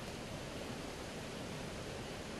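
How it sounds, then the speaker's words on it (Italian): The famous Croda mill cascade runs in flood after a storm, a constant broadband roar of falling water, steady and fairly faint, with no voices over it. "Ecco come si presentava nel pomeriggio la celebre cascata"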